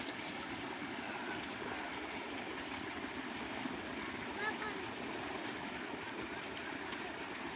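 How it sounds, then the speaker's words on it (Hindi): Water from an irrigation channel flows steadily toward rice seedlings in a village field, a constant close rushing wash with no breaks. "और ये खाल में से पानी आ रहा है, सीधा जो है वो चावल की पनीरी को जा रहा है।"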